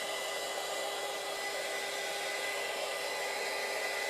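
A hair dryer drying wet chalk blows steadily at close range, a constant loud whooshing hum with a faint electric whine, running without pause and no voices.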